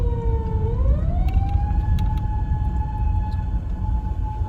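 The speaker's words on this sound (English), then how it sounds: "Get to hear the sirens." A loud wailing siren sweeps upward in pitch and then holds a steady high tone, sounding close by over a constant low traffic rumble.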